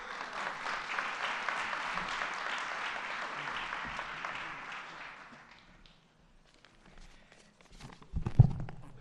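Audience clapping at a governor's press announcement, loud and dense for several seconds before tapering off into quiet, followed by a few thumps and shuffling sounds.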